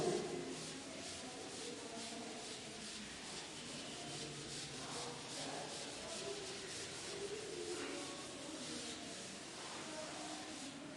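A board is rubbed clean with steady, repeated back-and-forth scrubbing strokes, a soft close hiss sustained for several seconds with no talking.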